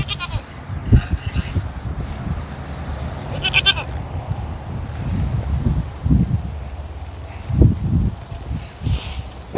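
Homestead goats bleat several times among rustling and wind-like outdoor noise, their cries close and moderately loud and spaced irregularly.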